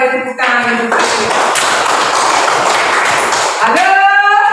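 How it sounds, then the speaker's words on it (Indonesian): A class claps its hands in a sustained burst of dense, fairly loud clapping that lasts about three seconds. A voice speaks briefly before and after the clapping. "Mari kita beri tepuk tangan untuk Tuhan."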